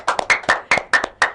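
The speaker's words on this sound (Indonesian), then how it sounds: "Boleh kita tepuk tangan secara virtual dulu mungkin?" Hand clapping for virtual applause during a live online talk show, around ten sharp close claps in an uneven quick rhythm from what sounds like a single pair of hands.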